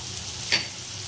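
Dried bombil fish and onion fry in hot oil with turmeric, a steady close sizzle with one brief stirring scrape midway, no voices.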